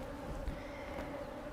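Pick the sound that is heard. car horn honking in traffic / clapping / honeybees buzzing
honeybees buzzing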